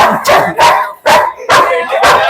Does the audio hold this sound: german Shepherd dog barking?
yes